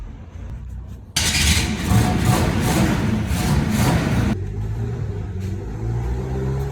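A Chevy C30 dually pickup with a 400 V8 and a freshly repaired carburetor roars to life after a quiet moment, revving loud and rough for a few seconds before dropping to a steady, rumbling idle close by.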